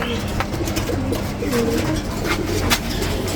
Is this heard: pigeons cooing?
yes